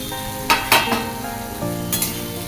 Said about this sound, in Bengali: পেঁয়াজ টমেটো ভালো করে ভেজে নিয়েছি